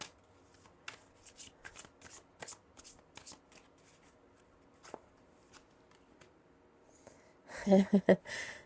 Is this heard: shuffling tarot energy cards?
yes